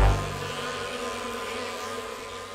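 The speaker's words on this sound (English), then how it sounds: "The bees are buzzing!" Bees buzzing in a children's cartoon, a steady droning hum that holds evenly from start to finish with no voices over it.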